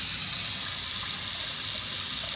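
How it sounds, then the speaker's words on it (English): Water runs from a tap that has just been opened during a test of an automatic Z-Wave water main shutoff valve with leak sensors, making a steady, loud, continuous hiss with no talking. "So I'm gonna turn the water on."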